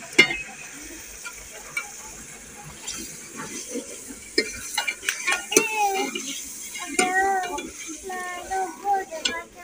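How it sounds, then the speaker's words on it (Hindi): Chicken frying in a masala in a village kitchen, with a soft steady sizzle under frequent scraping and clinks of a spoon stirring against the pot, and someone talking over it. "अब जो है ना इसमें चिकन को डालती हूँ।"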